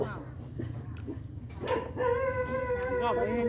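A dog barks and howls in drawn-out, wavering cries that grow louder in the second half, mixed with people talking nearby.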